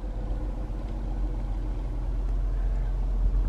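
A manual car rolls slowly forward in first gear with no throttle, its engine giving a low, steady idle rumble close by, fairly quiet and unbroken.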